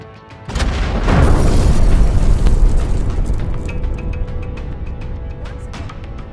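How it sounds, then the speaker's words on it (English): Fragmentation bombs strike a target in a single heavy, close blast that rolls into a long rumbling decay, followed by scattered sharp crackles and pops. "The fragmentation bombs have shredded the target to bits."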